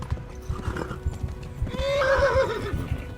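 In the medieval open-world game Kingdom Come: Deliverance, a horse's hooves clip-clop in a quick steady rhythm, then a loud, close neigh rises and wavers over the gallop.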